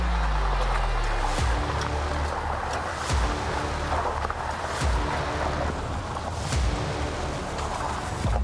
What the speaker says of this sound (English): So we just crossed these puddles and bumps, which there's a lot of.